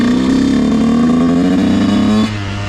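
A dirt bike engine held revving in first gear before a wheelie, a loud, close, steady buzzing drone with a slight rising pitch, then dropping back as the throttle eases near the end.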